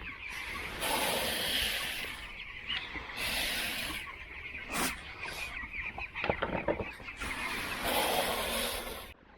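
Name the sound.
broiler chickens clucking while feeding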